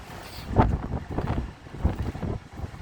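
Strong wind in open New Mexico country buffets the microphone in rumbling gusts that surge and fade in quick succession, close and loud, with no talking.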